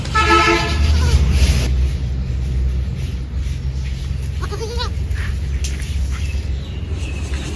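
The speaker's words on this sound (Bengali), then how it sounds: "দেখো ছাগলের বাচ্চাগুলো কত সুন্দর" Young goat kids bleat in a rural home yard, with a burst of loud wavering calls at the start and a shorter bleat midway, over a constant low hum.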